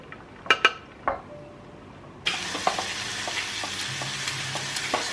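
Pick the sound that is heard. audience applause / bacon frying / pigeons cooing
bacon frying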